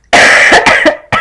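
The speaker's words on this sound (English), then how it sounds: "Get my last coughs out." Several sharp, loud coughs from one person close up, a burst of three or four quick hacks followed by a last cough after a short pause.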